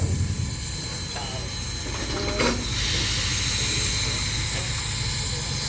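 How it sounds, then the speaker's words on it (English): Southern Railway MS class Mikado steam locomotive built by Baldwin, standing on a museum turntable in Chattanooga, gives off a loud continuous hiss with a brief clank, close and steady throughout. "Now, because of its length, we have to position this locomotive perfectly on our turntable."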